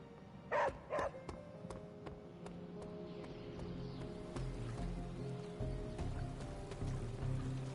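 In the video game Midnight Suns, a dog gives two quick, close barks near the start, followed by soft pattering sounds and game ambience.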